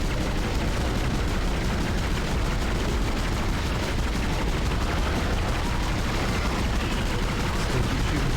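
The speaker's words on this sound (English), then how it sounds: "Still keep shooting for the limbs." Dense, continuous gunfire from the sci-fi horror video game Dead Space, loud and relentless throughout with no pause, rapid shots blurring into one heavy roar.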